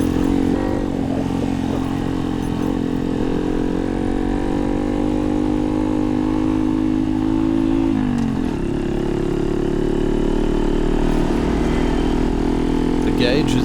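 A small motorcycle engine drones steadily and close while riding along a bumpy road through open country, with a brief dip and shift in pitch partway through and a continuous buzzing rumble throughout.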